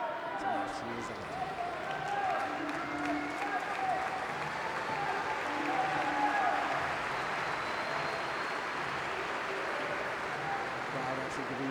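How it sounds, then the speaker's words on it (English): A crowd applauds at a swimming venue during the Toronto 2015 Parapan American Games, with steady, dense clapping that fills the space throughout, echoing in a large indoor pool hall. "Crowd actually giving her a hand."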